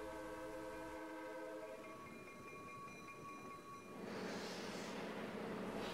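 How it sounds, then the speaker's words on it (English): A steam locomotive on the New Orleans & Gulf Coast line sounds its whistle for a grade crossing, a loud sustained multi-tone blast over rail rumble that gives way to a broader hissing roar near the end. "the engineer blew the signal for the grade crossing"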